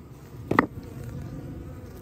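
Bees robbing an abandoned hive give a soft, close buzzing drone with one louder brief buzz as a bee passes near, then a low steady hum.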